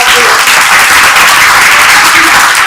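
Loud, dense applause from a large crowd, steady and sustained throughout with no pauses.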